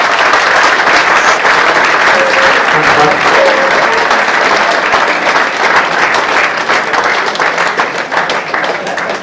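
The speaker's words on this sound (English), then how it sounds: "a really big round of applause." An audience at a football club academy launch night applauds the academy class of 2011, loud, sustained clapping from a large room that holds steady throughout.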